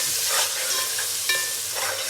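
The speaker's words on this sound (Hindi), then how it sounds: "इसको भूने, अगर लगे हम भूनते भूनते हमें लगे कि ये मिर्चें जल रही हैं" Red chili powder, turmeric and dried coriander frying in a pan for Punjabi aloo baigan, with a steady close sizzling hiss and a few scraping stirs of a spoon.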